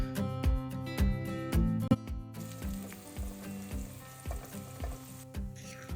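Onions frying in a pan with salt for an egg curry: steady close sizzle and crackle with rhythmic scraping stirs of a spoon against the pan, continuous and clear without talk.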